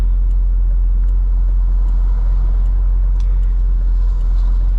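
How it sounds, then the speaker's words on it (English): Deep, steady V8 rumble from a C6 Corvette Grand Sport, a loud low drone with a constant throb and no clear revving, carrying on evenly throughout. "it's like just the V8 sound in this"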